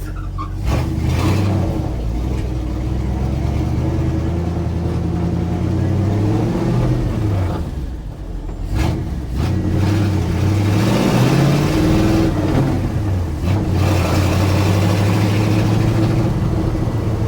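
A restored Dodge W200 truck engine runs while driving, a steady mid-pitched drone that swells and eases with throttle, with a brief dip partway through.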